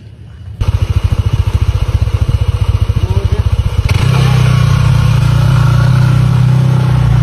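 A motorcycle engine starts up nearby with a rapid, chugging putter, then is revved into a louder, steady, higher drone that holds to the end.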